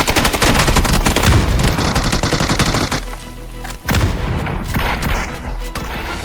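Dense gunfire and explosions from a PUBG match on the Erangel map, including M16 rifle fire and grenades, sounding as rapid continuous bursts and booms, loud throughout with a brief lull midway.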